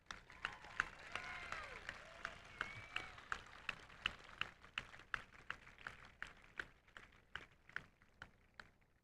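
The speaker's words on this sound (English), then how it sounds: "I think we deserve a round of applause." Applause at a high school graduation ceremony, a steady run of fairly distant claps and cheers from the audience, with individual sharp claps standing out in a regular rhythm as the clapping gradually thins out.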